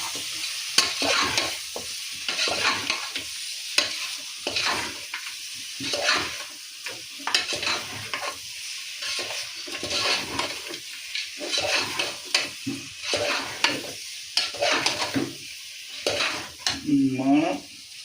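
Mutton curry is stirred in a pan with repeated spoon scrapes and clinks over a constant sizzle, close up and fairly loud, no talking.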